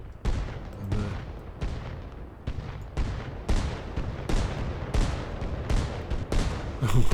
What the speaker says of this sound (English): How about a big mortar strike?